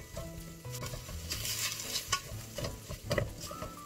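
Ground beef browning in a hot pan while being stirred, with a steady close sizzle and frying crackle broken by scraping stirs and a few louder bursts.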